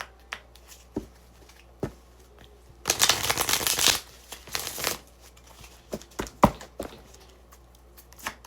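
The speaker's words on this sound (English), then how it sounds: "Okay, we'll do another shuffle." Tarot cards are shuffled by hand, a burst of rapid riffling and flapping about a second long, followed by scattered soft card taps and handling sounds.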